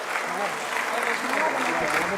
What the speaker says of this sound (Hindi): शिक्षा मंत्री ला जोरदार ताली बजा के आप स्वागत करा